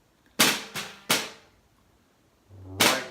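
A drum struck in a flam sticking pattern, with three sharp, close strikes in quick succession, a pause, then one more crisp hit near the end; each hit rings out loud and dry.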